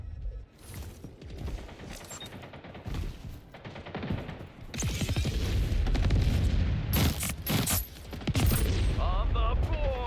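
A power weapon in the arena shooter Splitgate 2 firing in heavy, booming bursts, with mechanical clanks between shots, growing louder and denser partway through.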